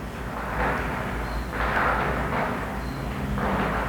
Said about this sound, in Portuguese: Isso são fogos